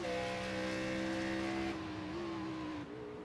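Onboard sound of a race car in the CFR championship race, a loud sustained engine drone with shifting pitch as it revs up and down, heard alone.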